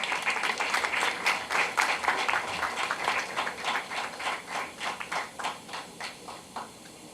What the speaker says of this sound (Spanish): Aplausos también, por favor.